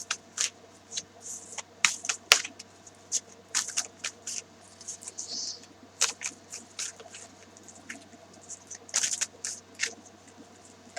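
Tarot cards are handled up close: soft slides, flicks and taps in irregular bursts, with a quiet room hum beneath.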